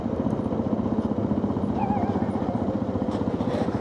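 A motorcycle hums along while riding, its engine giving a steady pulsing throb throughout, with faint wind and a brief voice-like tone partway through.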